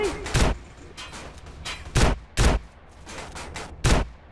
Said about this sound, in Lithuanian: Gandžia, šovė gaidys.